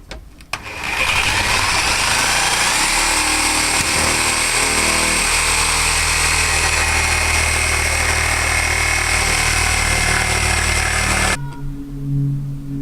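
A fresh blade saws steadily through a panel for about eleven seconds, making a loud, continuous buzzing whine, then cuts off abruptly and leaves faint room noise.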